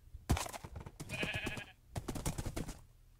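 A sheep in a survival video game bleats in a few short, close bursts, each a wavering nasal cry, with brief clicky gaps between them and no talking.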